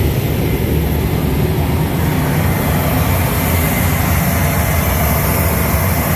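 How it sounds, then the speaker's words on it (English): The auxiliary power unit of a C-17 Globemaster III runs in the right wheel well while the engines are off, producing a loud, constant, dense roar and whine with no breaks, heard up close. "That's the APU running in the right wheel well."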